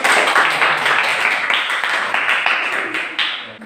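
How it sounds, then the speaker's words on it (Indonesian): Classmates clap for a student group about to present in a school biology lesson, a steady dense patter of many hands filling the room, fairly close and loud throughout. "tepuk tangan untuk kelompok yang ini"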